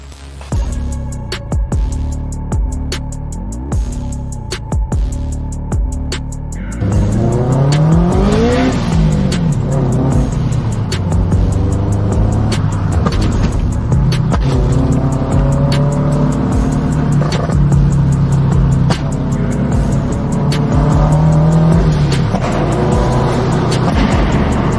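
A tuned, boosted Scion FR-S running on flex fuel revs hard and accelerates, its engine climbing through repeated pulls with squealing tires, loud and close throughout.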